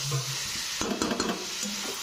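Potato, pointed gourd and egg frying in oil in a pan, with soft sizzling and a cluster of stirring scrapes near the middle.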